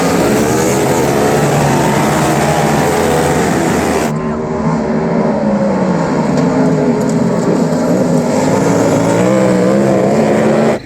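A racing kart engine drones loud and steady throughout a kart race final while the driver, stuck with a failing gearbox, cannot shift gears; the pitch holds high without change, with no talk.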